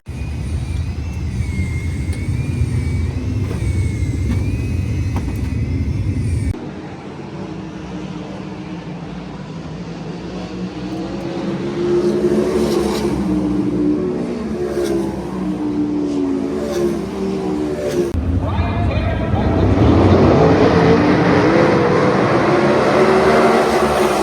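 Dirt track sprint car engines revving before a heat race, a loud sustained roar that drops, then rises again in waves as cars accelerate, with several engines overlapping near and far.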